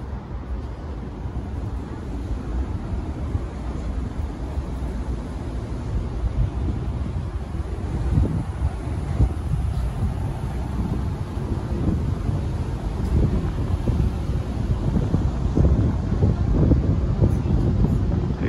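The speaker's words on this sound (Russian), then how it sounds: "Ветер, кстати, не сильный." Wind buffets the microphone on the open-air deck at the top of Moscow's Ostankino TV tower, a continuous low rumble that swells in gusts toward the end, with no clear voices.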